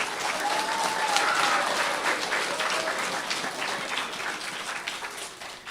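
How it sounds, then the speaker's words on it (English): An audience applauds a superintendent as he comes up to speak at the close of an event, steady sustained clapping from a crowd throughout, fairly loud and even. "give him a round of applause as he comes"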